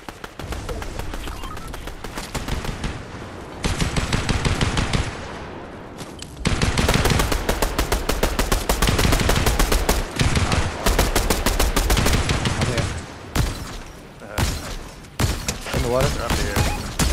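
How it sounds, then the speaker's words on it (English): Sustained gunfire in a shooter video game, dense bursts of rapid automatic shots with brief pauses, loud and continuous through most of the stretch, with players talking over it. "More shots to our right."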